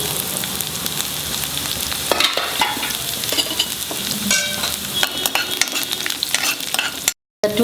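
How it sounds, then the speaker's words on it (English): Finely chopped garlic cloves fry in hot oil, giving a loud, continuous close-up sizzle with scraping stirs throughout and a brief silent gap near the end. "So just fry it nicely."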